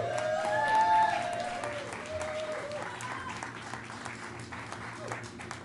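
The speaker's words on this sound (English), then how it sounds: "they deserve a round of applause and support" Audience applause at a literary reading event, a steady spread of clapping at moderate level with a few shouted cheers and voices mixed in across the whole stretch.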